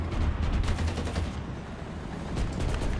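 Sustained machine-gun fire from a T-72B3 tank in a video game, a dense, loud, continuous burst with steady rapid rhythm across the whole stretch and no talking over it.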